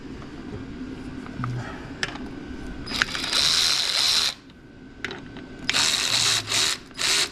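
A power drill or impact tool drives bolts into a Ford Falcon transmission in short whirring bursts of a second or so, close and fairly loud, with clicks and handling noises between them.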